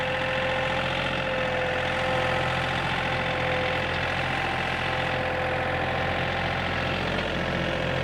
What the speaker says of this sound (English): a ton of learning how to spread rock with a tractor